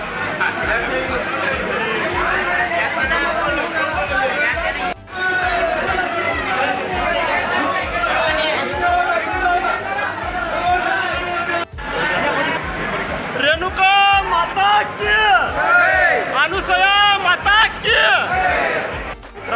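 A dense crowd of devotees murmurs and chatters continuously at the Renuka Mata temple on Mahur fort during the Panchkoshi yatra, with close voices rising over the steady babble and someone speaking nearby.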